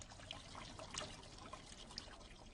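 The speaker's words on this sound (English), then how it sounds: "The sand and pebbles in the guttering are behaving as if they were in a river." Water flows along a length of guttering and carries sand and pebbles as a model river, making a faint, steady trickle with small patters.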